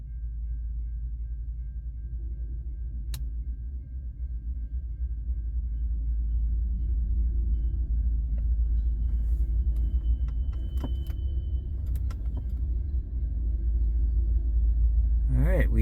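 Two CN freight locomotives passing at night in Ladysmith, Wisconsin, a heavy low rumble that builds and holds steady with clanks and squeals toward the end, fairly close, no talking.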